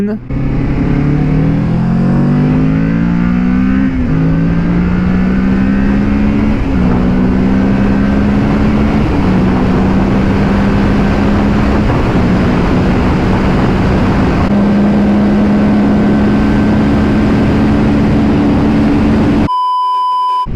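A Kawasaki Ninja 650 motorcycle pulls away from a takeoff, its engine note climbing through several gears with brief dips at each shift, loud and close under steady wind rush.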